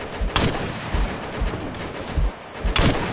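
Gunfire in the video game Operation Flashpoint: Red River, a few sharp broadband shots spaced irregularly over a steady battlefield rumble, fairly close and loud.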